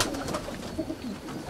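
Pigeons arriving during a pigeon hunt, heard as a short burst of soft cooing and faint wingbeat-like fluttering over a noisy outdoor background.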